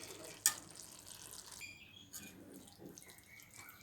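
Water is poured into a cooking pan of sautéed vallarai greens while making kootu, a faint, soft splashing gush after a small clink, heard alone at low level.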